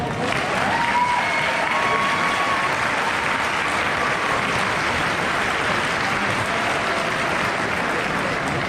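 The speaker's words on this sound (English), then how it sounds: "Please join me in giving them a round of applause." A large high school graduation audience gives a sustained, even round of applause, a thick continuous wash of clapping with faint cheers mixed in, steady throughout.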